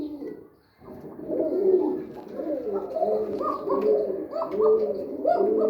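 A pigeon chick coos repeatedly, close by and clear, in a small pigeon farm. The soft, rolling calls come in a steady run after a brief pause at the start.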